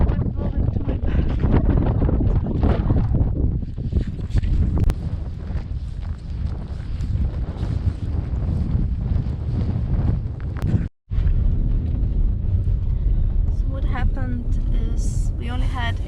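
Strong wind roars steadily against the microphone while travelling through Iceland's winter highlands on the F35 in deep snow, with a brief dropout near the eleven-second mark and a voice speaking over the gusts.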